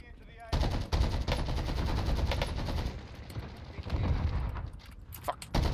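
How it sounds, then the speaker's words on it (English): Rapid AK47 gunfire in the shooter Warzone comes as close, loud automatic bursts that start abruptly and keep going, with a brief lull near the end before shots resume. "Someone else is shooting at him."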